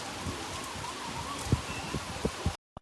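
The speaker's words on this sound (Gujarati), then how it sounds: "અત્યારે વરસાદ ચાલુ થઈ ગયો છે." Sudden rain falls steadily on surfaces nearby, with a few louder drips and thumps standing out before the sound cuts off abruptly.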